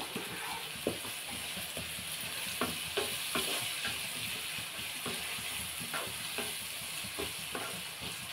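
Capsicum, tomato and onion curry frying in a pan, a steady loud sizzle with occasional stirring scrapes and small clicks, close up with no talking.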